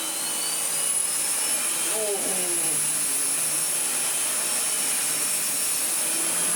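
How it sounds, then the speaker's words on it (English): A loud, steady whine from a Miele Revolution PowerPlus 5000 S5980 vacuum cleaner at high power runs throughout, and a person briefly exclaims over it. "if we turn the vacuum up"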